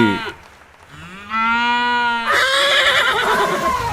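A cartoon cow gives a loud, drawn-out moo of about four seconds. It swoops and holds steady, then ends in a rougher, breathier tail, with no other sound around it.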